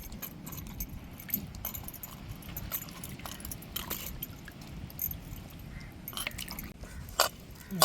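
Chicken pieces for a country-chicken fry are rinsed in water, with soft sloshing, drips and small clinking knocks from the vessel scattered over a quiet, steady background and no talk.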